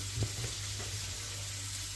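Ingredients for butter chicken are being sautéed in oil, and a low, steady sizzle runs through the whole clip, with a few faint stirring taps.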